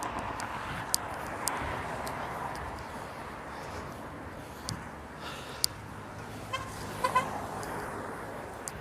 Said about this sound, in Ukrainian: Друга машина посигнали, бачите.